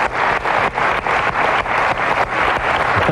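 Sustained audience applause fills the room at a steady, dense level throughout a TV interview studio, with no talk over it.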